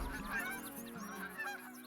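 A large flock of geese honking in the video game Call of the Wild, many overlapping calls in a continuous noisy chorus, moderately distant.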